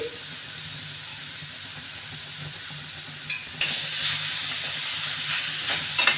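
Grated carrot cooking in oil in a pan over a low gas flame, a quiet hiss that swells into a louder, steady sizzle about halfway through as stirring begins.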